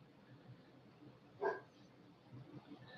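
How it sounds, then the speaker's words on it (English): A single short dog bark sounds once, faint and somewhat distant, against a quiet room background. "And the dog is barking."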